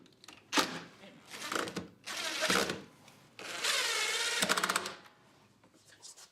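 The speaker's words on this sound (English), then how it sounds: "Screw it in." A power screwdriver drives screws into a wooden carry-all, fastening small clamps that hold PVC pipe, in several loud whirring bursts of a second or so each, close by with short pauses between.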